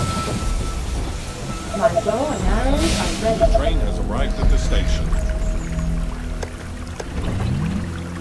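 A train pulls into a station in the strategy game They Are Billions, a hissing rail rumble with wavering tonal squeals, heard alongside a spoken in-game voice announcement.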